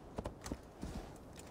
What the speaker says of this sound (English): Why am I riding down the mountain on a horse?